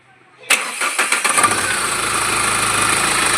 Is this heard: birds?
no